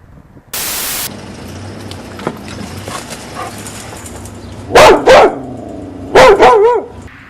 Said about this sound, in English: Holy crap, that's a big dog.